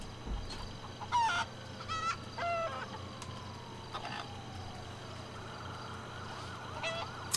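Chicken clucking in GTA 5 Online, a few short bursts of squawks and clucks over a continuous low hum, with a faint siren-like tone rising in the background.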